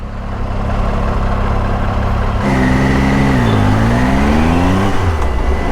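A Triumph Tiger motorcycle pulls hard in fourth gear from around 30, a loud, steady engine drone rising in pitch as it accelerates, then easing slightly near the end.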